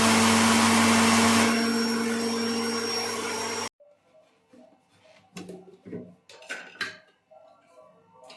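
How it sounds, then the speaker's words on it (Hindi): A faulty mixer grinder grinding roasted coriander in a jar, a loud steady motor whine that slows and stops after about three and a half seconds, followed by quiet clinks and handling of the jar. "मेरा धनिया ठंडा हो चुका है, और मैं इसे मिक्सी जार में पीस लूंगी।"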